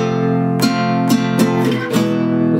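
An acoustic guitar is strummed in a rhythmic pattern for a song. A sustained chord rings with four distinct down-up strokes and is heard close and clear, with no talking.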